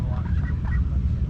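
Ducks at a duck herding demonstration at a harvest festival quack in short, overlapping calls at close range over a low background murmur.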